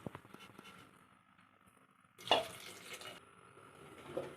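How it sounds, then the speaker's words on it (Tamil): A glass of water from a jar is poured into a clay pot for fish curry. It makes one brief, splashy burst of about a second in an otherwise quiet kitchen with faint clinks. "நம்ம கொஞ்சம் ஜாரில் ஒரு கிளாஸ் தண்ணி ஊற்றி நம்ம அந்த மண்சட்டியில் சேர்த்துக்கலாம்"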